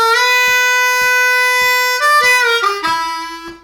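Blues harmonica lick, played alone as clear sustained notes that step downward near the end, with faint regular thumps marking the beat underneath.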